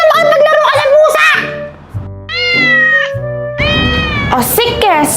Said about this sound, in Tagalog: Ay, na makipaglaro ka sa pusa!